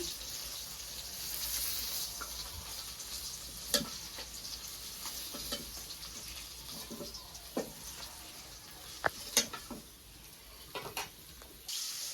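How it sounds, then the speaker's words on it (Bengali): Fish fries in a pan with a faint, steady sizzle, broken by a few sharp clicks and scrapes of stirring, quiet and close, with no talking. "ভাজা হয়ে গেছে এখন মাছটি নামিয়ে নেই"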